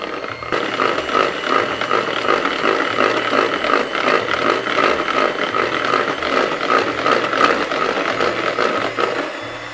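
An electric mixer beats butter to a creamy consistency in a continuous, loud, slightly rattling whir that holds steady throughout, with no talk.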